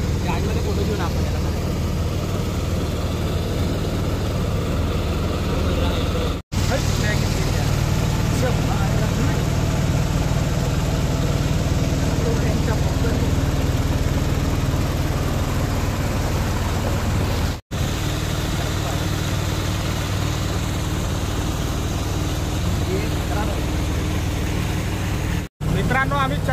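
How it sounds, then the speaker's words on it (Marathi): Motorboat cruising mid-river on the Narmada: a continuous loud engine drone with wash and water noise runs throughout, with a few brief dropouts, and voices are faintly mixed in. "आम्ही चक्क नर्मदेच्या मधोमध बोटिंग करत आहे."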